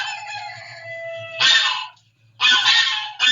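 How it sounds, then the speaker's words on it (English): Harsh, loud cries from a swan defending its nest by a lake, two rasping bursts separated by a brief pause, over a low droning background. "we heard the distinct, harsh cry of a swan as it defended its nest"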